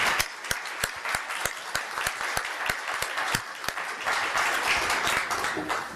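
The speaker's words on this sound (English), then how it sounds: "A round of applause perhaps already at this time." An audience at a doctoral defence applauds, starting with a few sharp, distinct claps and swelling into steady, fuller clapping from a modest crowd.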